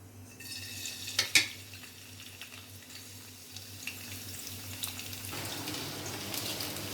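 A soft sizzle of garlic dropped into hot oil, with a few clinks of a utensil against a pan and steady frying underneath.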